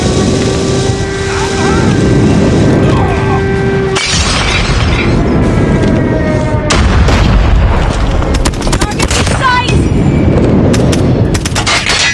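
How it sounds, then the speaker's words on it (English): Airstrike explosions in COD Mobile multiplayer, a loud dense barrage of blasts, gunfire and shattering under aircraft engine drone, continuous and close, with game announcer voice lines over it. "Enemy airstrike incoming."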